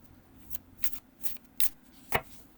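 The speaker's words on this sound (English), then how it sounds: "But you can do the rifle shuffle, you can do the overhand," Riffle shuffling of a Tarot of Haunted House card deck, with several quick bursts of card flutter spaced about half a second apart and a sharper final snap as the cards bridge together, close and fairly quiet.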